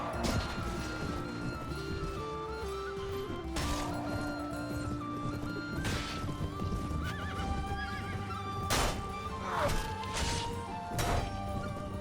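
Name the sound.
horse neighing and galloping in Mount & Blade Warband video game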